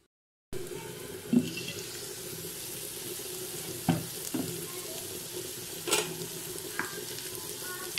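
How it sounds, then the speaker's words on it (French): Onions sizzle and caramelize in a tajine for a hake and mushroom dish, a steady close frying hiss running throughout with a few sharp clinks and stirring knocks scattered across it. "à ce stade-là, les oignons ont commencé à caraméliser, comme vous pouvez le constater."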